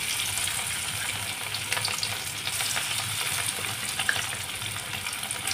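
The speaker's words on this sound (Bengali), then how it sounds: "এইভাবে আমি মাছগুলোকে সব ভেজে নেব।" Marinated rohu fish pieces frying in hot oil, a continuous dense sizzle and crackle close by, with faint scattered ticks throughout and no talking.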